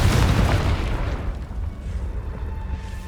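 A Confringo blasting spell goes off in the wizarding game Hogwarts Legacy, a deep, booming explosion with a close, heavy burst that rumbles and fades into crackling debris.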